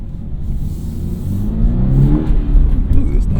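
A Toyota GR86 engine pulls hard under acceleration, heard from inside the car as a low, throaty drone that swells louder as the revs climb, with some talk underneath.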